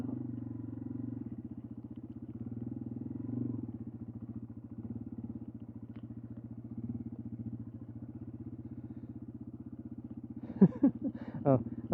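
A motorcycle engine riding on sand thrums steadily up close, a low rhythmic putter that holds even throughout. A few sharp clatters come near the end.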